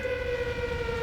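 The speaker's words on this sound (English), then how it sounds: "I like the air raid siren going on right now" An air raid siren sound effect from the StarCraft video game, a steady sustained wail holding one tone with harmonics, loud and continuous for the whole moment, with no voices.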